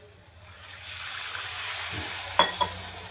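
Fish curry masala in a pan as a little water is poured in: a steady, moderate sizzle and hiss builds and holds, followed by a couple of sharp clinks near the end.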